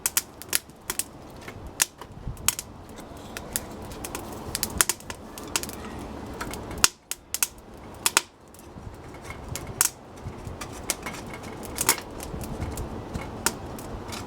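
A rocket stove fire burns hard under a pot, crackling and popping with sharp, irregular snaps close by over a constant rushing roar of flame, with no voices.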